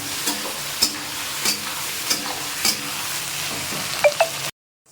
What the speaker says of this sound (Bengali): চলো পেঁয়াজটা ততক্ষণে লাল লাল করে ভাজা হোক